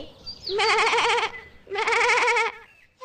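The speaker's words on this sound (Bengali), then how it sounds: "মনে হলো ছাগলের ডাক শুনলো" A cartoon goat bleats twice, two loud, close, wavering calls of nearly a second each separated by a short pause.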